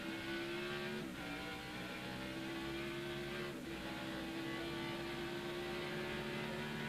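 Race car engine at the 1999 SaveMart Kragen 350 on track, a sustained droning roar heard over a broadcast, with two brief dips in pitch as gears change before the tone climbs again, moderately distant.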